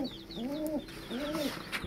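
Pigeons in a home pigeon loft, including Lotan pigeons, give two soft, rolling coos close by, each under a second long, with faint rustling between them.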